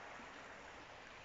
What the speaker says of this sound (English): Loving the sound of the river just bubbling past, absolutely mint.